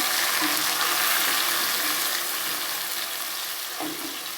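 A ginger, tomato and green chilli paste fries in a pan for Bengali-style vegetarian ghugni, giving a loud, steady, close sizzle that runs without a break and eases slightly toward the end.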